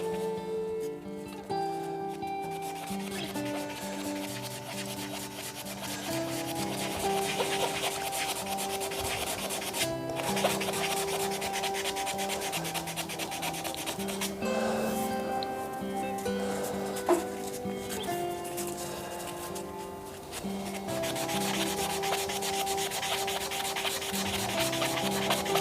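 Epoxy resin shaving brush handle being sanded on a spinning lathe, a continuous rubbing and scraping texture running for about twenty-five seconds alongside steady tonal machine hum, with no voices.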